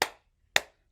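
Children in a library Pride story-time song clap their hands in sharp, even claps, two strong ones half a second apart and a softer third just after, with quiet between.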